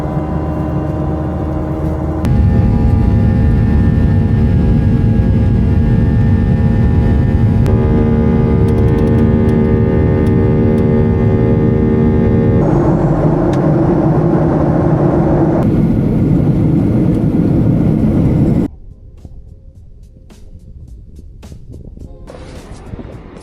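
Airplane cabin at the start of a flight: a steady, loud engine roar and whir with shifting tonal hum, holding for most of the span before dropping abruptly to a quieter cabin hush, no talking.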